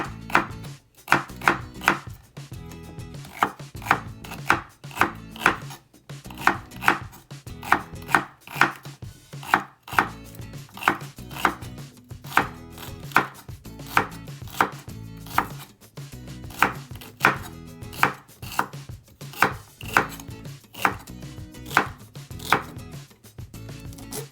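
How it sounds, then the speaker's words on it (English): Celery being sliced with a knife on a cutting board, a long run of crisp, regular chopping taps close by, steady in rhythm with brief pauses, no voices. "Okay, so now I'm going to slice it."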